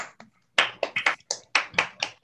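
Scattered hand claps from an online audience after a talk on Darwin's Origin of Species, a handful of uneven bursts coming through open microphones, fairly close and loud with short gaps between them.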